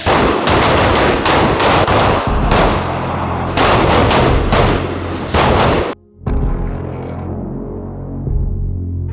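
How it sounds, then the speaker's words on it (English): Rapid loud gunshots from shotgun and handgun at a police academy range, a dense string of sharp blasts for about six seconds, then a short gap and quieter lingering rumble and a few distant shots. "We're doing shotgun, transitioning, and then shooting with the handgun."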